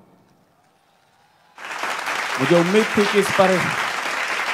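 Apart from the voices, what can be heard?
audience applause at a poetry recital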